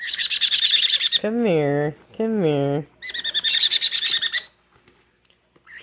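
A baby bird gives rapid, shrill chirping bursts up close, alternating with a person's drawn-out cooing voice imitating the calls, followed by quiet.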